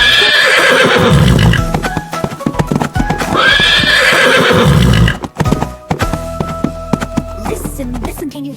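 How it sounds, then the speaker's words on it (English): A farm horse gives two long, loud whinnies close by, followed by rhythmic clip-clopping hooves, with no talking. "Horse sound is called neigh."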